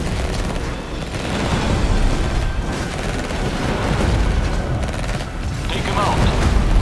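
Continuous dense gunfire and booming blasts from units battling in the real-time strategy game Tempest Rising, a loud, sustained wash of shots and explosions running through the whole stretch.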